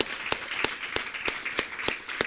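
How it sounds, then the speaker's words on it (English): A crowd applauds at an awards dinner, a steady wash of clapping with a few sharp, louder individual claps standing out at regular intervals, moderately near. "Let's give UJ a warm round of an applause."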